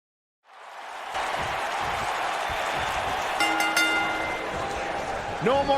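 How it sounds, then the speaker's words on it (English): A live arena crowd applauds and cheers after a one-on-one wrestling match, a steady roar of clapping that holds throughout, with whistles and a few shouts rising near the end. "I hope you enjoyed it as much as this live crowd appears to have enjoyed it."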